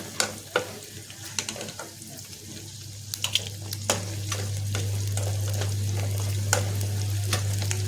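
Sliced onions frying in a pan for coconut chutney, a close sizzle with scattered clicks and scrapes of stirring, rising into a louder steady hiss with a low hum underneath.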